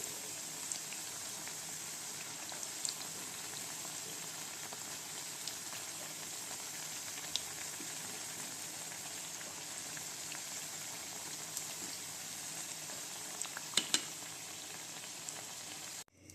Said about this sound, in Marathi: मंद आचेवरच तळायचं जास्त मोठा गॅस ठेवायचा नाही